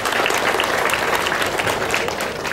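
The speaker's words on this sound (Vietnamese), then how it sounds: "xin cùng vỗ tay hoan nghênh đón mừng các vị quan khách của chúng ta hôm nay" Audience applause welcoming guests at a Ho Chi Minh City book event with Buddhist attendees, a full, continuous patter of many people clapping together, steady and close throughout.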